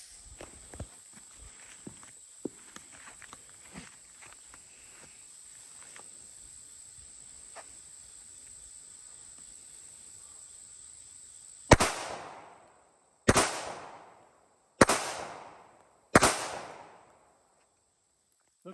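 Four loud, sharp gunshots from 180 grain Ranger T-Series rounds fired at a meat target, spaced about a second and a half apart, each with a short ringing decay, after a quiet stretch of faint rustling.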